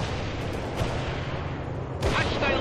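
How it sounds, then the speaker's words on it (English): A missile launch in the World in Conflict real-time strategy game, a loud rushing blast with dense rumbling battle noise beneath and a sharp burst near the end. "Missile launching, 84!"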